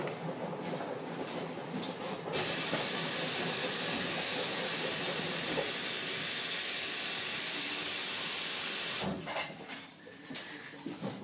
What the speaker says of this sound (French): Il n'y a plus d'eau dans ma cafetière.